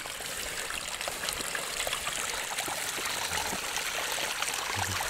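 Spring water runs steadily out of a freshly dug outlet in muddy ground, a continuous close trickling and gushing stream with no talk over it.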